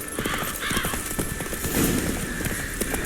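Horse hooves clip-clop steadily on the ground in The Witcher 3, with a horse's whinny rising partway through, all set against a continuous outdoor ambience.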